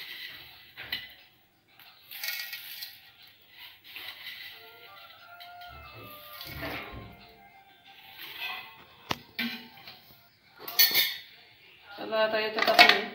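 Fine sev is stirred into homemade bhel in a bowl, with light clinks and scrapes of a spoon against the dish. The sounds are quiet and close, with faint voices now and then.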